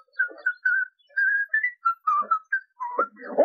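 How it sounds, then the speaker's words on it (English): A man whistles a short, jaunty tune in quick separate phrases, clear and close with no background noise. "he began to whistle"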